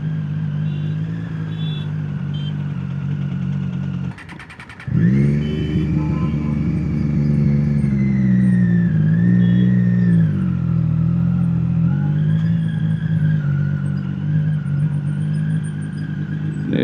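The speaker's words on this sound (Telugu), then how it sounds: "This exhaust is kind of loud." Triumph Street Triple motorcycle fitted with a loud SC Project exhaust, running close by with a steady throaty drone, a brief dip, then a sharp rev near the middle before settling back into a strong, even idle-to-cruise growl.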